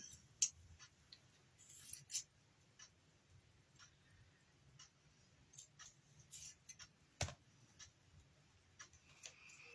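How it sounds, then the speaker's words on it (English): Scissors snip through cheesecloth in scattered, quiet cuts, a series of soft close clicks and crunches separated by short pauses in an otherwise hushed room. "I'm going to trim some of this cheesecloth up."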